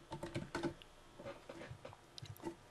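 Soft, quiet keystrokes on a computer keyboard as a search is typed, a short irregular burst of clicks, a pause, then a few more taps.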